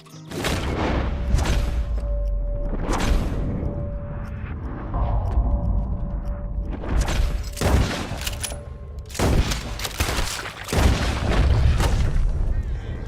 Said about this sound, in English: Did your randomly firing gun hit me?